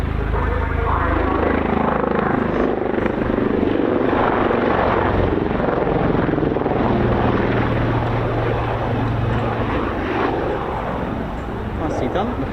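Black Cats display helicopter at an air show accelerating toward the crowd in its final maneuver, a loud continuous rotor and engine roar with steady blade beat, under a commentator's voice.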